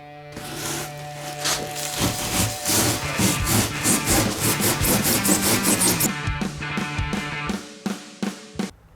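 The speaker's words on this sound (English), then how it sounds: "now I'm gonna cut out some styrofoam pieces down here and fill them in the gaps here" Styrofoam pieces are cut to fill gaps in pop-up camper roof insulation, making close, rhythmic rasping strokes that come in quick bursts and then trail off.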